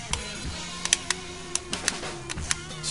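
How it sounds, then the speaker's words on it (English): A T8 Torx driver unscrews the screws of an Xbox 360 controller, giving faint close squeaks and small sharp plastic clicks scattered irregularly over a quiet background. "we're going to unscrew the 7 screw holes"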